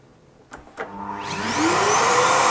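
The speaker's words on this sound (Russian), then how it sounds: "пылесос в режим работы на всасывание – включаю" A vacuum cleaner switched to suction mode powers up after a couple of clicks, its whine rising and settling into a loud, steady roar that drives a small Feynman sprinkler turbine setup.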